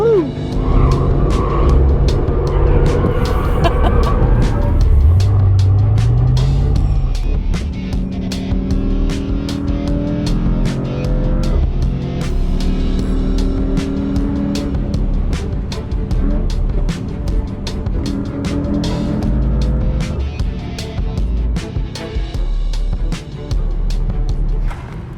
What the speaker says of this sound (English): we can use that, or even go up to race, or even over to drift mode, like this.